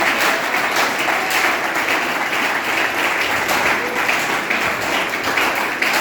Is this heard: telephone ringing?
no